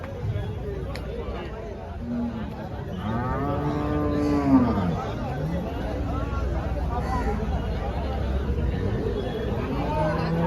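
Jersey cross and HF cows at a busy Saturday cattle market in Chalisgaon, with one long, drawn-out moo rising and falling midway over a steady crowd hubbub and nearby chatter.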